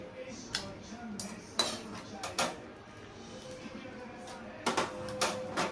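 Boiled banana stem pieces moved into a bowl with metal utensils, giving scattered clinks and clatters of cutlery and dishes in a kitchen, with a few louder knocks among softer handling sounds.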